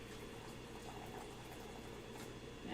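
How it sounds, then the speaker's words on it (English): Water boiling in a kettle makes a steady, faint bubbling rumble that continues without a break, with no voices over it. "Now, it's important that this is boiling."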